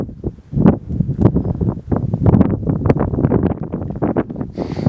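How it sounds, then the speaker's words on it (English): Strong, gusty wind buffets a microphone outdoors at Black Gap Wildlife Management Area on a cold day, roaring in continuous uneven surges with no voices. "the wind is blowing and it's definitely cold today"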